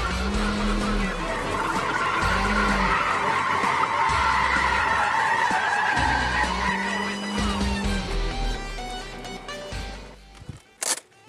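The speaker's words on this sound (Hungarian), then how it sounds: "Amikor csúszáshatáron autózunk, lehet hallani a gumicsikorgást." Car tyres squeal loudly and continuously while the car skids at the limit of grip, with the tone rising and falling over the engine before tapering off near the end.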